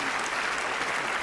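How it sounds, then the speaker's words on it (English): An audience gives a dense, steady burst of applause for Carmen Lyons, a brief loud wash of many hands clapping at once. "So a round of applause again for Carmen Lyons"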